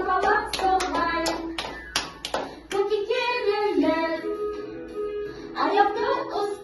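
Sharp hand claps in a small therapy room, a few distinct claps in a rhythmic burst, then a sung children's melody continuing with claps returning near the end.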